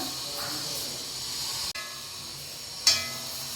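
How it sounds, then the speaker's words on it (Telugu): Gongura leaves frying in a pan give a steady, close sizzling hiss, broken by a sharp click midway and a brief clatter near the end. "ఇవన్నీ గోంగూర బాగా వేగింది ఇట్లా వేపుకోవాలి"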